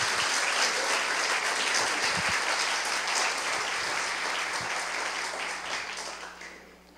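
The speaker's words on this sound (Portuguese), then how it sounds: "Aplauda o Senhor." A church congregation applauds during a Portuguese-language sermon, a dense steady wash of clapping from many hands that holds for several seconds, then gradually thins and fades out.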